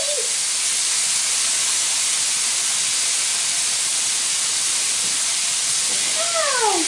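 Chicken parmesan enchiladas sizzle and smoke in a hot pan, giving a steady, loud hiss from start to finish with brief higher whistling tones near the end, and no talking.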